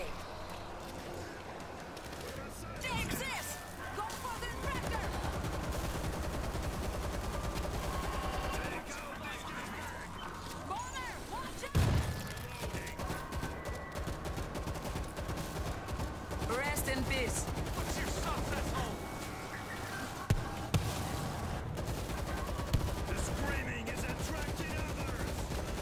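Gunfire crackles through the World War Z video game, with repeated bursts of automatic shots running steadily under chatter and game noise, a few sharper single cracks standing out.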